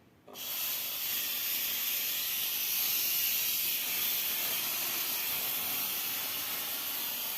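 An H2O X5 steam mop starts releasing steam with a sudden onset, then a loud, steady, close hiss that continues unbroken and even.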